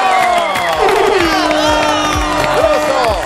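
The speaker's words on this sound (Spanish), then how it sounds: "fuerte el aplauso para recibir al invitado de hoy," A television studio audience cheers and whoops for the arriving guest, loud and continuous, with voices shouting over the clapping throughout.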